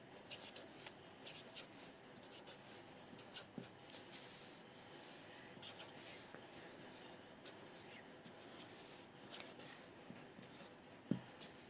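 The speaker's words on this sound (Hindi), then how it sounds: "सबसे पहले हम काउंटिंग लिख लेते हैं 10 तक।" Pen scratching on paper as counting numbers one to ten are written out during a Korean language lesson, soft intermittent strokes and rustles close by in a quiet room.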